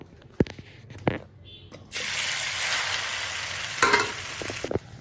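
Chowmein being stirred and fried in a wok, a loud, steady sizzle that starts suddenly after a few sharp clanks of a utensil against the metal, with more scraping knocks close up.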